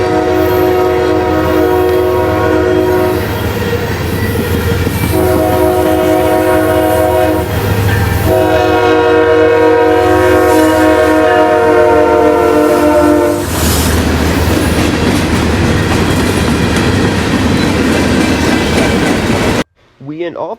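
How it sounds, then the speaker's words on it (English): UP 5400 leads an intermodal freight west on CSX in Chicagoland, blowing long, loud, repeated horn blasts over a steady heavy rumble, while NS 8010 runs alongside; the horn stops and rolling train noise carries on to the end. "UP 5400 leads an intermodal west on the CSX as NS 8010 races it west"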